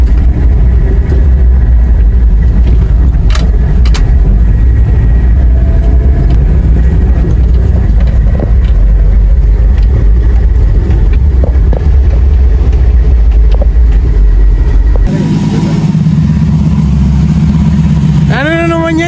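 A car engine, apparently an RB25, runs loud and close with a rough rumbling idle and uneven revs, then cuts to quieter sound near the end; people talk over it.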